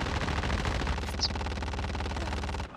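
Rapid automatic gunfire from a Call of Duty Blackout match, a loud continuous burst of machine-gun shots fired at an enemy, rattling steadily for nearly three seconds before cutting off abruptly.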